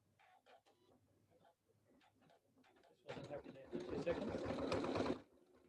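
A Janome embroidery machine starts up midway and runs with a close, steady whirring and stitching chatter for about two seconds, following quiet talk and small handling noises.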